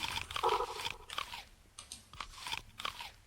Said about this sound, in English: I'm just happily munching on an apple.